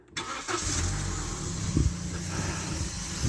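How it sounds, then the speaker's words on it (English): A used car's engine with a dry bearing runs continuously up close, a steady mechanical drone with a low rumble and a brief louder bump partway through, no voices. "You can probably hear there we've got a dry bearing."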